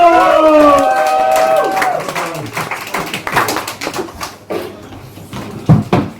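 A stand-up comedy audience cheers and claps after a shouted announcement, scattered claps and whoops continuing at moderate loudness as the noise tapers.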